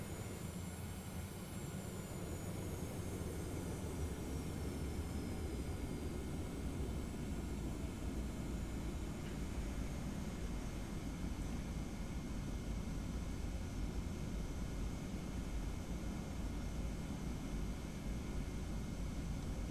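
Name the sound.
Boeing 717 taxiing to the runway in a flight simulator video game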